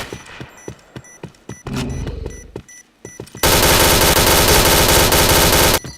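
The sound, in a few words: gunfire in the video game Point Blank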